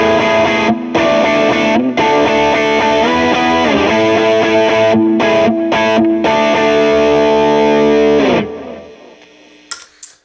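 An electric guitar through a Wrath distortion pedal plays a loud, saturated rhythm part of chugging chords with brief choked gaps, then rings out and fades before a short string noise.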